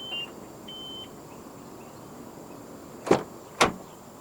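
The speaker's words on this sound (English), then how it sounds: "And to unlock the car, just press any of the black buttons again." A 2019 Nissan X-Trail 2.5 4WD unlocks via the keyless entry button on the door handle, with faint beeps at first and then two distinct sharp clunks of the locks a half-second apart, close by.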